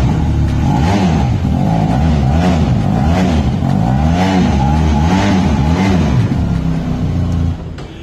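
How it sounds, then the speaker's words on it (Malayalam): A Benelli 502X motorcycle engine revs up and down repeatedly in a steady rhythm of rising and falling throttle blips, loud and close, before settling toward the end. "ഇനി 502 എക്സിന്റെ സൗണ്ടും കൂടെ ഞാൻ ജസ്റ്റ് കേൾപ്പിച്ചുതരാം"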